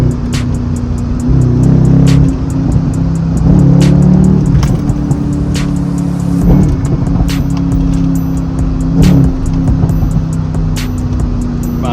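Chevrolet Camaro SS with a crackles-and-pops tune rumbles loudly while driving, its exhaust swelling in repeated revs with sharp cracking pops scattered throughout, no talk.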